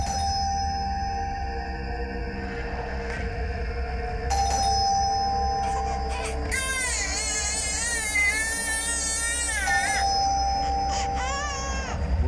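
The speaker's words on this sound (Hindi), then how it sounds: "गुड़िया, कब से घंटी बज रहा है," A doorbell rings over and over inside a home, its electronic chimes sounding repeatedly and steadily while a high wailing cry rises and falls over part of the ringing.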